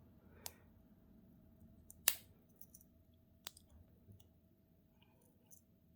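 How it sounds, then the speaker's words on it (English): Small scissors on a Victorinox Classic SD pocket knife click and snip in a quiet room, a few sharp, close, isolated clicks spaced irregularly over several seconds. "You've got the scissors."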